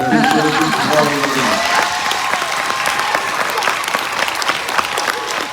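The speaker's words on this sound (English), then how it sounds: "Kids, can we give them a rousing applause?" Loud, sustained applause from a King County Council meeting audience, with voices and cheering at the start before the clapping settles into a steady, dense wash.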